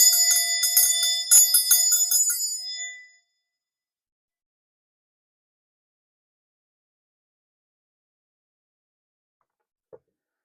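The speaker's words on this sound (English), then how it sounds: "I'm going to ring this bell" A hand bell rung to clear negativity, a rapid run of bright, loud metallic dings for about three seconds that stops abruptly, followed by near silence and one faint tap much later.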